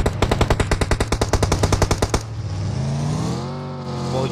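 Automatic gunfire in PUBG Mobile empties a whole magazine in an even, rapid stream of loud shots lasting about two seconds. A vehicle engine droning underneath is left once the firing stops.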